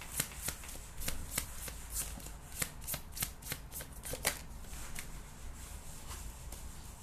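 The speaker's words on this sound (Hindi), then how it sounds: "मैं और अच्छे से शफल करूँगी" Tarot cards being shuffled, producing a steady run of crisp riffling snaps and flutters, close and prominent throughout with no talking.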